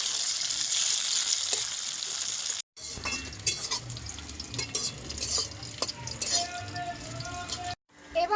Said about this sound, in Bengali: এবার কাজু কিশমিশটা দেওয়ার পরে 2 মিনিট ভালো করে কাজু কিশমিশটা ভেজে নেব।